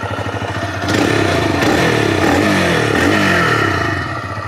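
TVS Raider 125cc motorcycle engine and exhaust close up, a loud throbbing idle that swells as the throttle is blipped around the one-second mark and holds a busy, rattly rev before easing back, no voices.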